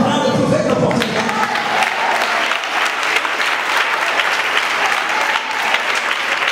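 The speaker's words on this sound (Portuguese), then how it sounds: "Vai, aplauda o Senhor, aplauda" Church congregation applauding in praise during a sermon, loud sustained clapping from a crowd, close and continuous throughout.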